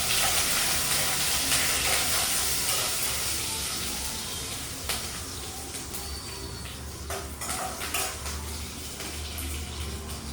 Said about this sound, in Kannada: ಸೊ ಇವಾಗ ನಾವು ಇದಕ್ಕೆ ಒಣಮೆಣ್ಸಿನ್ಕಾಯಿ ಹಾಕೋಣ, ಆಮೇಲೆ ಕರಿಬೇವು ಹಾಕಿ ಫ್ರೈ ಮಾಡೋಣ